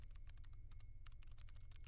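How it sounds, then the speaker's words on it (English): Rapid typing on a computer keyboard, close and crisp, a quick irregular run of key clicks with a low hum underneath. "My fingers fly across the keyboard"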